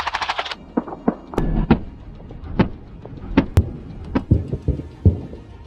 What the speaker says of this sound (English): Look how good the Bushmaster cannon is.